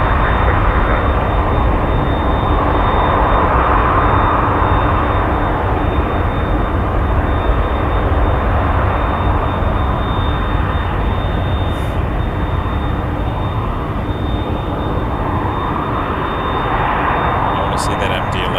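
MD-11 jet at Toronto Pearson airport, a steady, loud broadband engine roar that holds evenly throughout, with a faint high whine running over it.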